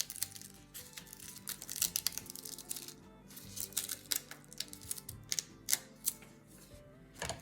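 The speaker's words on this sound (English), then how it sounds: "I'm going to carefully peel off the photocopy paper." Photocopy paper being peeled slowly off a stamped paper card, a close, quiet run of crinkling, crackling and ticking paper sounds in irregular bursts, with no talk.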